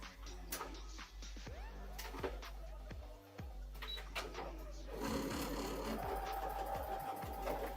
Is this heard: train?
no